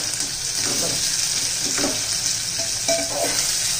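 Rice ingredients for masale bhat sauté in hot oil, producing a loud, constant, close sizzle broken by a few scraping stirs of a spoon against the pan.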